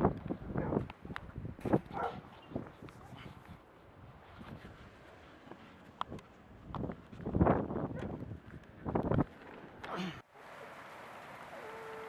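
A dog barks in several sharp bursts, close by, mixed with gusty wind noise from a severe thunderstorm before things abruptly quiet down.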